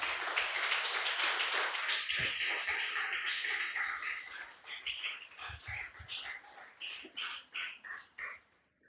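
A church congregation applauds loudly and steadily, the dense clapping later breaking up into scattered bursts and thinning out at the end.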